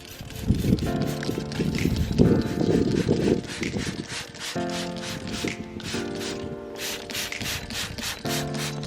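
Valet Pro Bilberry wheel cleaner in a spray bottle is shaken, giving quick rhythmic rattling and sloshing bursts over steady background music.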